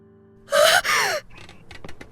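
A woman's sharp, startled gasp in the gothic horror game It Paints Me: two quick, loud inhaled bursts, followed by a few faint, soft rustling sounds.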